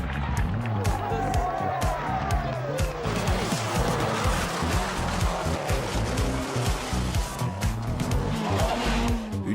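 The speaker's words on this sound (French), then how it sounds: "dérapages contrôlés." A rally car slides through controlled skids with a revving engine and squealing tyres. The engine note rises and falls repeatedly under continuous speech, giving a busy, loud mix throughout.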